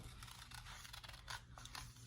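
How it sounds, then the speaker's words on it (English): Scissors snip steadily through paper in a quick series of crisp cuts, close by, with no voices. "you'll need your scissors, and we're just gonna cut out like an oval"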